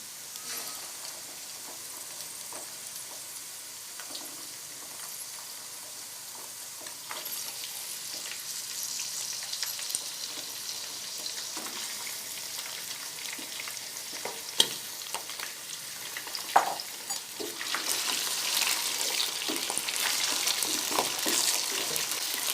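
Chicken frying with browned onions in a pan gives a continuous sizzle. It builds gradually louder, with occasional clinks and stirring scrapes, close and alone.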